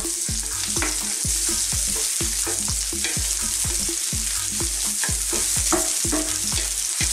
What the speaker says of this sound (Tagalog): Ngayon po, isusunod na rin natin yung ating onion.